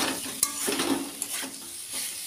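Lentil fritters (dal bora) frying in a pan give off a steady near sizzle with a few brief clinks and stirring scrapes over about two seconds, with no one talking.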